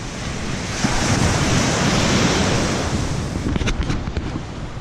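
Ocean surf rolls onto a long beach in a loud, continuous wash, with heavy wind buffeting the microphone throughout.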